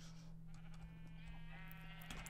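Sheep bleats in a castle-building video game, a couple of short faint bleats over a steady low hum and light background clatter.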